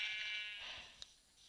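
Sheep in the video game Minecraft letting out one short, clear bleat, fairly quiet, followed by a faint click.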